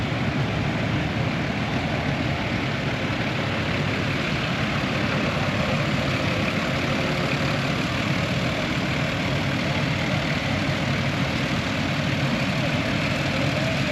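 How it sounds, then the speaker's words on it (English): Antique tractors rumble steadily in an outdoor parade at a fun day, a loud continuous low engine drone with no break throughout. "Look at all those antique tractors."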